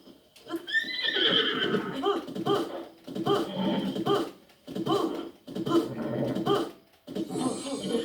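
A horse in Zelda: Breath of the Wild whinnies loudly several times in bursts separated by short pauses, with a rough, breathy neighing tone and faint background noise.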